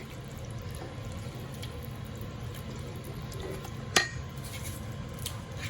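Fried pepper being stirred into washed rice in a cooking pot, soft wet scraping and sloshing with one sharp clink of spoon against the pot near the end, close and fairly quiet, no talking.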